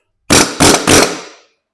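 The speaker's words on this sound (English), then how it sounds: "we knocked it loose with the air hammer" Three quick, loud air hammer bursts in a row, each a harsh broadband rattle, used to knock loose the fan clutch on a 7.3L Powerstroke truck engine, with a short ringing tail after the last burst.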